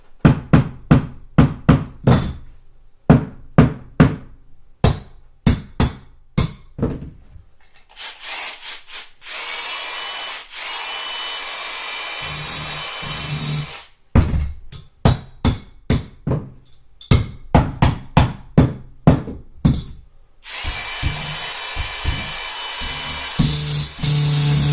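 Two adjustable wrenches work loose a suppressor taper mount adapter, with rhythmic metallic clicks and knocks broken by stretches of steady grinding and scraping, close and fairly loud.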